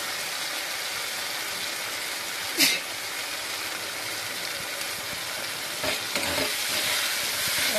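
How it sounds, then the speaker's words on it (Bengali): Ground cumin and coriander spices frying and being stirred in a pan for a Bengali mushroom curry, a continuous close sizzle broken by a few sharp spoon scrapes against the pan. "সব মশলা ভালো করে কষিয়ে নেব।"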